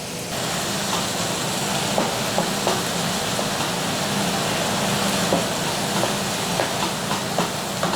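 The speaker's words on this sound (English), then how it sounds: "In with our mushrooms. Start cooking them down in that pan there." Mushrooms with a pinch of salt sizzle in a hot pan while cooking down for a quiche, a steady close hiss with occasional small pops and crackles.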